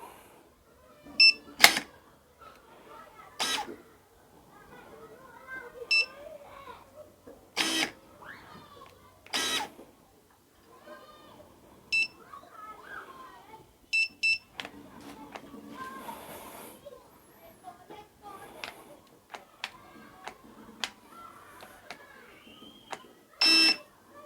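A series of short, sharp electronic beeps from a Worx WG330 20V brushless power pruner, scattered irregularly with quiet gaps between them, over faint low background noise.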